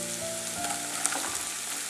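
Chopped onions sizzle and fry in hot oil with ginger-garlic paste for an Erachi Choru, a steady close crackle with light stirring and no voices.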